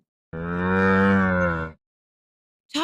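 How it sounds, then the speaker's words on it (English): A camel lets out one long, deep, groaning bellow, loud and close, lasting over a second, followed after a pause by the start of another. "camel,"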